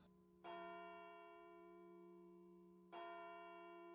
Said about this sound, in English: I hate that bell.